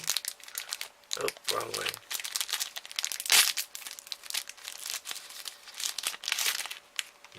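A mooncake's thin plastic wrapper is crinkled and torn open close by, giving irregular crackling rustles and a sharper rip, while a voice speaks briefly over it.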